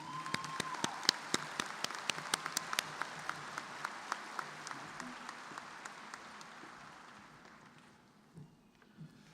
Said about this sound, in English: Please join me in a round of applause for these outstanding leaders.